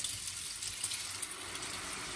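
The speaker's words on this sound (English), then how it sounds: "I add some water" Water poured into a hot pan of spaghetti for one-pan carbonara, a continuous close gushing hiss lasting a couple of seconds.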